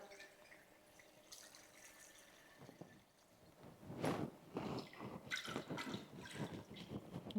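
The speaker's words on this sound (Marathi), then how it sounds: "असं पोह्यांच्या वरती व्यवस्थित असं पाणी ओतायचं" Water trickles and then pours more strongly over flattened rice (poha), a splashing gush that continues unevenly to the end, with no talking.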